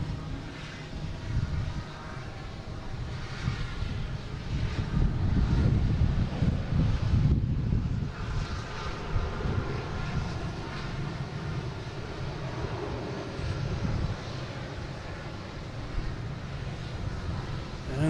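A JetBlue Airbus A320 from Fort Lauderdale at Boston Logan International Airport gives a sustained distant jet engine roar that swells and fades, mixed with wind buffeting on the microphone.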